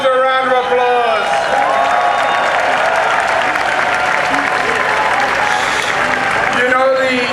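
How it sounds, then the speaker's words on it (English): A large crowd at a New York Orlando-massacre vigil applauds loudly and steadily throughout, with shouts and cheering voices rising over the dense clapping. "Give yourselves a round of applause."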